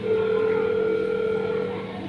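A telephone rings steadily and close as a call is placed, a sustained electronic tone holding for about two seconds before fading slightly at the end, with no talk over it.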